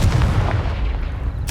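A Confringo fire spell explodes in Hogwarts Legacy with a loud, close, booming blast that rumbles on, then a sharp burst comes at the very end.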